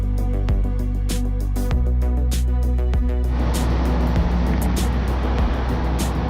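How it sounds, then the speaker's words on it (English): BMW M340i 3 Series driving on the Portimao circuit, a steady engine drone with strong low harmonics and repeated sharp clicks or shifts, the tone roughening into broadband road and wind noise partway through, close and continuous. "we're in the new top-of-the-range version of the 3 Series, the M340i"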